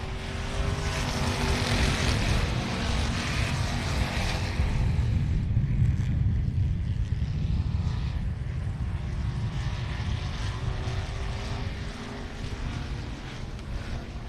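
A pack of race cars at Texana Raceway Park revs up at the green flag, a loud, sustained engine roar that holds steady and slowly eases as the field moves away.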